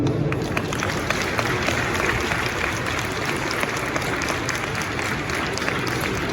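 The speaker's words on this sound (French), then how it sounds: "On peut les applaudir." Audience applause at a Paris Manga 2025 convention panel, sustained, dense clapping from a large crowd filling the hall, steady throughout with no pauses.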